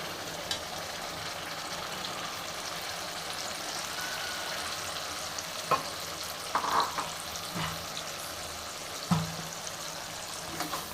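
Tomato puree goes into onions already fried in oil for a vegetable biryani, and the pan sizzles steadily with occasional stirring scrapes and soft splatters, moderately loud and without talk.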